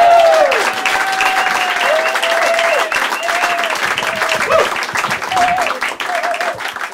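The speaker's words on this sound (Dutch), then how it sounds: "geef een daverend applaus voor de enige echte Adriaan van den Hoof" An audience applauds a comedian at a Dutch-language comedy show with dense, sustained clapping. A voice talks and calls out through most of it, close and prominent over the crowd.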